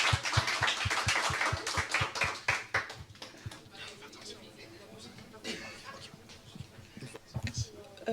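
A church congregation claps in a quick, steady rhythm at a sermon by a pastor, the clapping strongest at first and then thinning out beneath a speaking voice.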